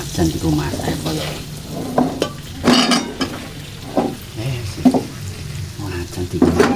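Salted fish frying and being stirred in a wok at home, with a steady sizzle broken by several scraping stirs of the spatula, and voices talking now and then over it.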